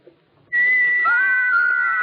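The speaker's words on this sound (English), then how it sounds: "These little carved figures can whistle." Small carved wooden figures whistle as a radio drama sound effect: a clear, sustained high whistle starts abruptly, then a second gliding tone joins it and both hold steady to the end.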